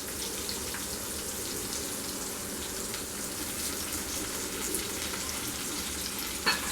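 Curry leaves crackle and sizzle in hot oil while cooking tangy toor dal, a steady, soft frying hiss with fine popping, close and alone with no talk.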